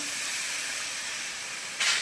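Water poured into a pan of frying spiced potatoes with turmeric and chilli powder sets off a steady, loud steamy hiss that holds evenly, with a brief stronger flare near the end.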